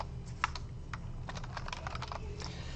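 Rapid, light clicking of keys on a computer keyboard, faint and irregular over a low steady room hum, with no speech.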